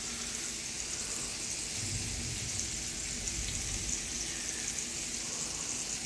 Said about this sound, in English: Get that nice sizzle going.